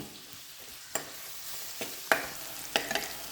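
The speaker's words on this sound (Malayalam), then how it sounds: "സവോള എല്ലാം ചേർക്കുക. സ്വല്പം ഉപ്പ് ചേർക്കുക മൊരിയാനായിട്ട്. ഇത് നല്ലതുപോലെ മൊരിയണം" Chopped onions frying with a little salt in a pan for chicken roast, a soft continuous sizzle broken by several sharp spatula scrapes and taps as they are stirred.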